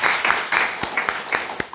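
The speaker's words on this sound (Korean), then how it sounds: "우리 감사의 박수를 좀 하겠습니다." A church congregation at a Sunday worship service gives a brief round of applause in thanks, a short burst of scattered, uneven hand claps heard from a moderate distance.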